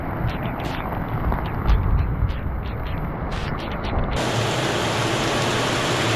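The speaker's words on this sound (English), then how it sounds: "That's some serious rain." Heavy tropical wet-season rain pours down in Thailand as a dense, steady hiss that grows fuller and more even partway through, loud and close with no voices.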